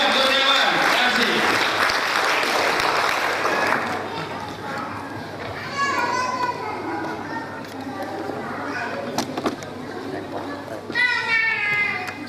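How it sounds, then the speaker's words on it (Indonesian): An audience at a Facebook marketing workshop launch in Serang breaks into loud, sustained applause for several seconds, then it fades into scattered chatter and cheers, with a short burst of clapping returning near the end. "Tepuk tangan sekali lagi yang paling meriah untuk Abayawan Kurniawan."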